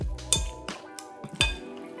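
Utensil clinking against a bowl or pot while food is stirred, four or five sharp metallic taps spaced unevenly and close by, each ringing briefly.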